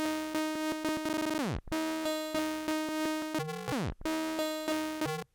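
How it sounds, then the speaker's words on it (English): Serum saw wave processed by the dBlue Glitch plugin: a bright, buzzy synth tone chopped into stuttering repeats, abrupt cuts and pitch dives that fall away, in a loud rhythmic pattern with no voice. "And you can already hear the plugin having an effect on that saw wave."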